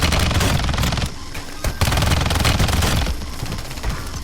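Loud, sustained automatic gunfire and rattling bursts in the mobile shooter game WarZone Mobile, continuous and close throughout with a few sharper cracks.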